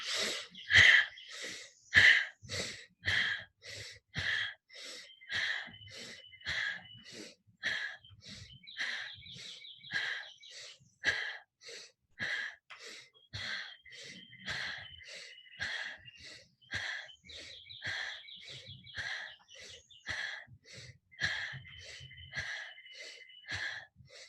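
Deep pranayama breathing during a yoga session, a rapid run of forceful, rhythmic breaths close to the microphone, each sharp and airy, repeating steadily for the whole stretch with short pauses, no speech.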